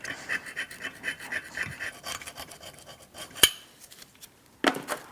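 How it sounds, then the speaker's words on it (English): A flathead screwdriver scrapes rust from Mazda 3 front brake parts in short, gritty rasping strokes, close and fairly faint, ending with a couple of sharp metallic scrapes. "I usually start off with a flathead screwdriver and get in the crevices"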